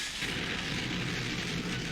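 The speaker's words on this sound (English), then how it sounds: "Insect fire cannon." A sustained, rumbling blast of the insect fire cannon attack in Yu-Gi-Oh! The Falsebound Kingdom, a dense, steady roar of fiery noise that holds evenly for the full two seconds without pause.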